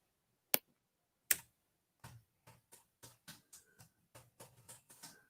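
Keys clatter on an Apple computer keyboard, opening with two sharp isolated clicks and then settling into a steady run of close, moderately quiet keystrokes with no talking.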